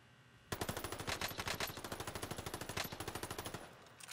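Rapid automatic SMG gunfire in a video game, a sustained burst of fast, evenly spaced shots lasting over three seconds, loud and sharp against a quiet background.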